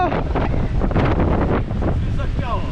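Strong wind buffets the microphone on a mountain via ferrata, roaring in loud irregular gusts close to the mic, with a person speaking briefly near the end.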